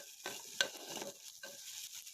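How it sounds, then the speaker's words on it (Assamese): Ginger, garlic and chili paste sizzles and spatters in hot oil while a spoon stirs and scrapes the pan in short bursts, close up with no talking. "আদা নহৰু পেষ্টৰ গোন্ধখিনি যোৱালৈকে এইখিনি ভাজি থাকিম"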